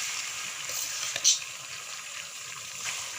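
Cloves and rice sizzling in lightly heated oil on a low flame, a soft continuous hiss with a brief stir or clink, quiet and steady.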